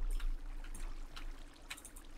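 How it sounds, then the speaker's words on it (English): Trickling stream water in a Minecraft-style video game, a soft continuous babble with faint splashy bursts, alone and fairly quiet throughout. "Ooh, I hear water."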